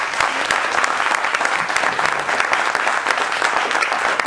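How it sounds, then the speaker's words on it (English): Audience applause for presenters at a Schoolcraft College evening event, sustained and even, a thick, close clatter of many hands clapping continuously throughout. "Let's give a round of applause to all of our presenters tonight."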